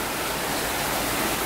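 Water of a stream flowing beneath a bridge in China, a steady, dense rushing wash that fills the whole stretch evenly and close by, with no voices or other sounds.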